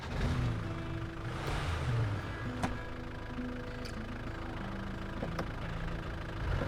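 An all-wheel-drive truck on mud tires idles in Snowrunner's Alaska region, producing a steady low engine rumble with a few faint clanks and light revs throughout, no voices.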